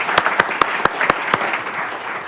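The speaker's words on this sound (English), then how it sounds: "So we'll clap for him even though he's not here." A small group at a town council meeting gives a brief round of clapping, with several sharp, distinct claps standing out over a softer patter across the short stretch.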